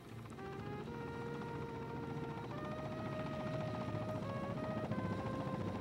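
A helicopter drones steadily overhead, its rotor hum and engine whine holding constant throughout.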